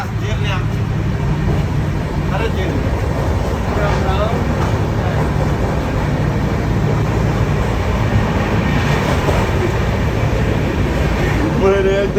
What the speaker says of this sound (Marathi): अगं बाई ट्रेन चालली ग बाई.